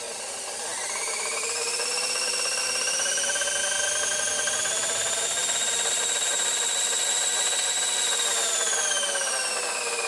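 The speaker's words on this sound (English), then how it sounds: "when I select forward or backwards, you see the motor's working" The electric motor of an Asong A235 power drive runs steadily nearby, a close whirring whine with rising and falling tones held throughout without speech.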